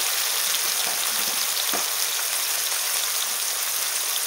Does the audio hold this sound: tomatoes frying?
yes